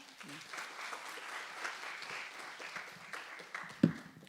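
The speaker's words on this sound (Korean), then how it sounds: "여러분 뜨거운 박수로 우리 배구진 대표님 환영해 주시기 바랍니다." An audience at a university humanities lecture gives a soft, sustained round of applause to welcome the guest lecturer, heard from a distance as a steady patter with one sharper hit near the end.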